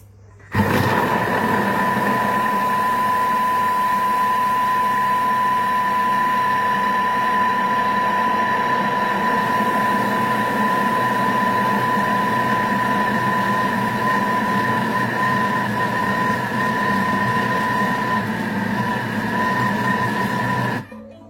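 A Thermomix TM6 mixes lemon tart mixture at speed 5, running as a steady, loud motor whine with a constant pitched hum that starts abruptly and stops after about twenty seconds.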